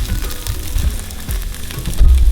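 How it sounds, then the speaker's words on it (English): A buttered croissant sizzling in a frying pot, a steady close hiss of hot butter with soft low rumbles, alone without talking. "I buttered my croissant, and I'm gonna let it go round in the pot"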